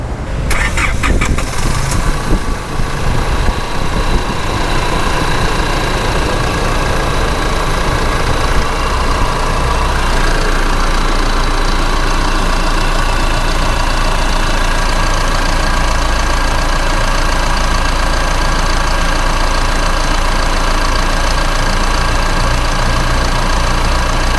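A 2008 Isuzu D-Max Hilander 3.0 pickup with manual gearbox in original condition idles steadily and close by, a brief start-up burst at the beginning settling into a constant low engine drone with no talk.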